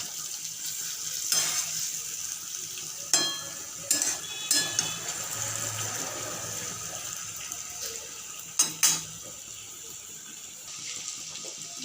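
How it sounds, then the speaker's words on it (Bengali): Pre-fried pumpkin and potatoes are stirred with spices in a pan, a soft steady sizzle broken by several sharp scrapes and clatters of the spoon against the pan, with no talking. "এখন দিয়ে দেবো ভেজে রাখা কুমড়োগুলো আরও এক দু মিনিট কুমড়ো আলু এবং সমস্ত মশলার সাথে মিশিয়ে নেবো"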